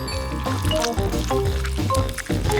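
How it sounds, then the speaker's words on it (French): Cold water is poured into a bowl in a kitchen, making a close, continuous splashing fill with small gurgles that rise and dip over a few seconds. "J'ai besoin d'un bol d'eau froide."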